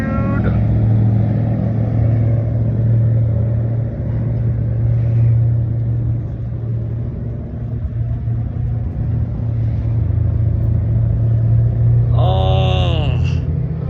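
A car with a steady, deep engine rumble idles and drives close by, its low hum continuous throughout, with a brief rising rev near the end and voices talking over it.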